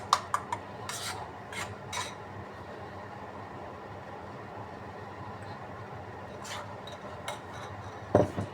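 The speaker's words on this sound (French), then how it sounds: "On touille." Spoon scraping and stirring a dish in a home kitchen pot, soft rasping rubs with a few sharp clicks and taps at the start and a louder clatter near the end, quiet and close.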